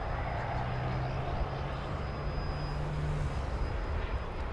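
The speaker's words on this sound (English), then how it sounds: "This Airbus A319, which is getting ready to take off." Airbus A319 jet airliner engines at DFW Airport, a steady broad roar with a low hum and a thin high whine, held at an even level for several seconds at moderate distance.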